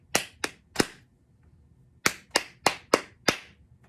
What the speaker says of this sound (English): So I'm going to clap the rhythm twice